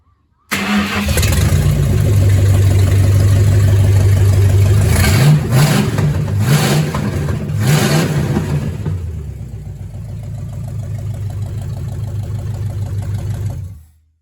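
A Big Block Mopar 400 V8 cranks and fires, roaring loudly up close with a couple of sharp rev blips before settling into a rough, loping idle that cuts off near the end.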